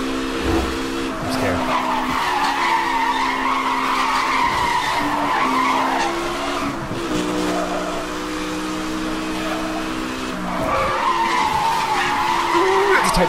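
Car tires squealing through a tight drift in the Need for Speed racing game, a loud sustained skid with engine drone that wavers and returns after a brief lull.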